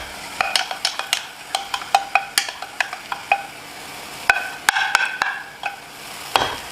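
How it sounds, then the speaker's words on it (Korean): Shiitake mushrooms and rice stir-fried in a pan for jangguk rice porridge, a wooden spoon scraping in quick rhythmic strokes with light sizzling underneath, close and alone. "자, 표고 볶고요."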